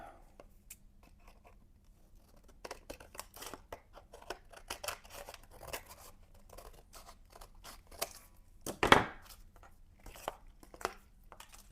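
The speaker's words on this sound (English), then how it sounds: "But I think I'm going to cut off this edge." Scissors snip along the edge of a mixed media art journal page, a run of small crisp cuts with light paper rustle and one sharper, louder snip near the end, close and fairly quiet.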